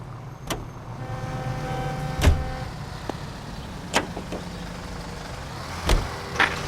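A car is driven in the video game L.A. Noire, giving a low, steady engine hum under the scene, punctuated by several sharp clicks and thumps at irregular intervals, with no talking.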